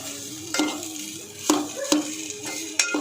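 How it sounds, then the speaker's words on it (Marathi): Potatoes being stirred in a sizzling pan for a potato chutney, with a steady hiss of frying under four sharp scrapes of a spoon against the pan, close and fairly loud, with no speech. "आता आपण ना ह्याच्यामध्ये बटाटे टाकून घेऊया"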